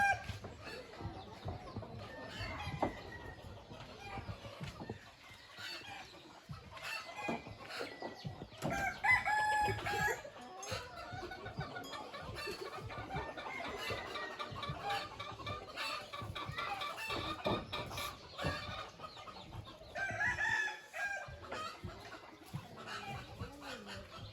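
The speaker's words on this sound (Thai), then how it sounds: "หมู่บ้านนี้เพิ่นเลี้ยงไก่หลายเบิ่งไก่คันเด็กก็ถึกนะ" Chickens and roosters in a rural hillside village in Laos, with repeated crowing and clucking scattered throughout, some calls close and others farther off over a busy outdoor background.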